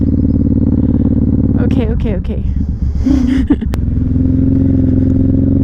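A Suzuki M109R cruiser motorcycle engine rumbles steadily while riding, loud and close, with a rider speaking briefly partway through and wind and clatter passing over the engine drone.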